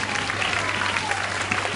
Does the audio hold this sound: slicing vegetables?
no